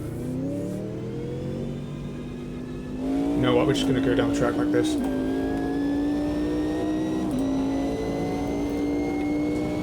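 Mercedes GT1 race car, a likely V8, in the Automobilista 2 sim, with a steady thundering engine drone that swells as it accelerates around four seconds and then holds loud and close, while someone talks over it.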